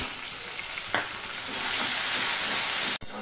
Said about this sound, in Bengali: আর এখানে দেখো আদা 1 চামচের মতন পেস্ট করে নিচ্ছি, সেটাও এবার দিয়ে দিলাম টমেটো।